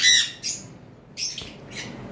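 A pair of jandaya conures gives harsh, shrill squawks in short bursts, with several separate calls close by and gaps between them.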